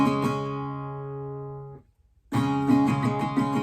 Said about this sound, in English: You'll start with your C prime chord and play most of strumming pattern 1